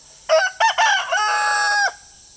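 A rooster crows loudly and close, a drawn-out call of several segments lasting under two seconds, with no other sound around it.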